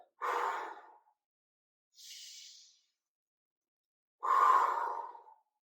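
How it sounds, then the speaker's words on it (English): Slow, audible breaths come in and out during a seated shoulder exercise with weights. There are three separate breaths with quiet pauses between them: a long exhale, a softer airy inhale, then another long exhale, all close and clear. "We're going to breathe out nice and slowly as we bring them together and breathe in as we bring them apart."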